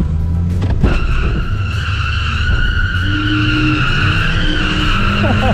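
Mazda 3 spinning through a Rockford turn on concrete, its tires squealing and skidding in a long continuous screech over the engine's roar, heard up close.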